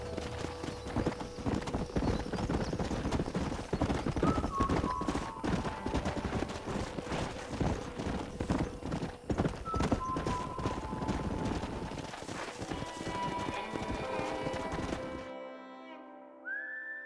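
Horse hooves clip-clop steadily across a long stretch in the Red Dead Redemption video game, with occasional whistles and whinnies layered over the rhythmic hoofbeats before a sudden cut to near silence.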